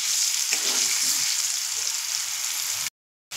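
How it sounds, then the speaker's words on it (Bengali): Potatoes with salt and turmeric frying in a pan on a medium flame, a steady close sizzle with brief stirring, ending in a cut to silence. "আলুগুলো লাল লাল করে ভেজে নেব।"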